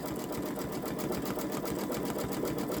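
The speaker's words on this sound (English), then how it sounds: "I see it's stitching beautifully over the holes that were on the right side of the t-shirt." A Babylock Solaris Vision sewing machine stitches over holes in a gnome t-shirt, a close, steady, fast whirring and tapping that runs unbroken and moderately quiet.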